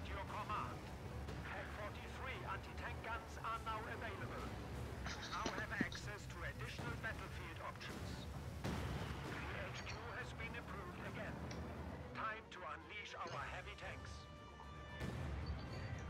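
25-pounder artillery firing in the game Company of Heroes 2, a string of booming gunfire and explosion thuds under continuous commentary talk.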